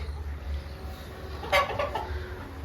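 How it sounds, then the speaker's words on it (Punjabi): Faint clucking from a group of hens and roosters kept in separate sections of a poultry shed, against a steady low hum, with a brief louder burst of calls partway through. "ਆਪਣੀਆਂ ਕੱਲੀਆਂ ਮੁਰਗੀਆਂ ਤੇ ਉਧਰਲੀ ਸਾਈਡ ਸਿਰਫ ਕੱਲੇ ਮੁਰਗੇ"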